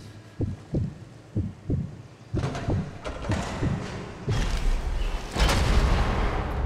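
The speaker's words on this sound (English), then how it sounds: "I'm waiting for the cannon to take off." Deep booming thuds from the Big Bertha cannon in Sniper Elite 4, a series of heavy low blasts at first spaced apart, then growing denser and louder toward the end.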